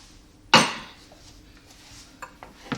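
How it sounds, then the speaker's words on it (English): A utensil clanks sharply once against a pan while beef stew with mushroom gravy is moved into another dish, followed by a few lighter clinks and scrapes. "what we're going to do is transfer this into another dish"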